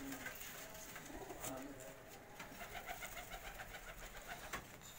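Racing pigeons of a prized breeder line coo on a rooftop loft, soft repeated throaty calls over a steady outdoor hum, faint and somewhat distant.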